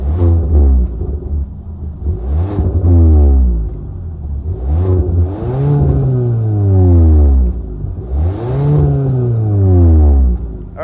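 A 2022 Kia K5 EX, front-wheel drive with a 1.6-liter turbo four-cylinder, revs loudly nearby in three rising and falling pulls, with idle between each, and no voices.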